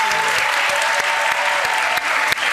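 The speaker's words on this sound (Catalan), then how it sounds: "aplaudiment per l'Anna" Loud, steady applause from a TV game show studio audience, dense clapping sustained throughout with a few sharper claps standing out.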